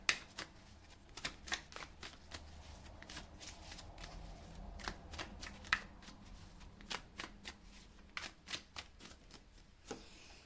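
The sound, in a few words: shuffling and drawing tarot cards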